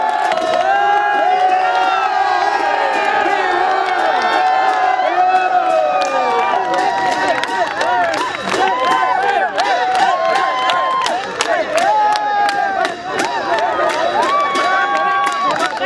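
Loud crowd cheering and shouting at a friendly football match marking Lalitpur Metropolitan City's 104th anniversary, sustained roars with whoops and rapid clapping bursts, voices mixed in throughout.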